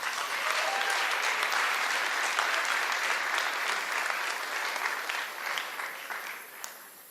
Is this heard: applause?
yes